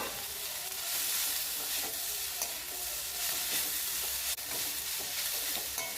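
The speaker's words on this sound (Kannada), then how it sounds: "ಕೊತ್ತಂಬರಿ ಸೊಪ್ಪು ಕೂಡ ಚೆನ್ನಾಗಿ ಫ್ರೈ ಮಾಡ್ಕೊಳ್ಳಿ" Coriander leaves fry in masala in a pan with a loud, continuous hiss and crackle, while soft stirring scrapes come and go.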